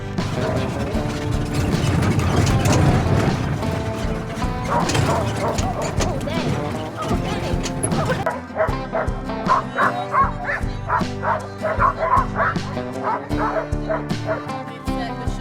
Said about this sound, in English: We climbed into a wheeled sled cart and were pulled by dog teams along the trail.